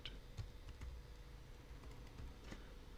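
Quiet keystrokes on a computer keyboard while entering a password, a sparse scattering of soft clicks and taps over a low steady background hum.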